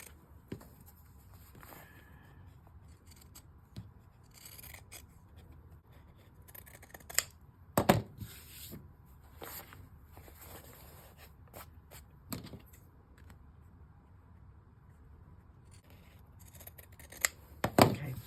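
Scissors trim fabric for a soft journal cover, quiet and close, with sparse individual snips and light rustling of cloth spread across a long stretch, plus a few louder handling knocks.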